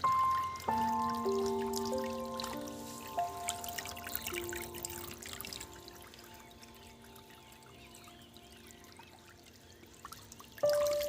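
Pond water raised by a pump pours out in a steady, continuous stream for several seconds, fairly soft, with a faint steady tonal hum running underneath.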